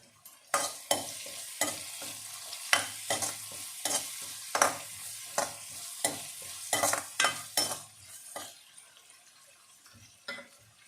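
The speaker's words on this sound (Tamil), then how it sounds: "இப்போ இது கூட ஒரு இனுக்கு கருவேப்பிலை சேர்த்துடலாம்." Curry leaves hitting hot oil in a pan for a Tamil-style oily brinjal curry, with a run of sharp sizzling, spattering bursts and stirring scrapes, close and fairly loud with no talking.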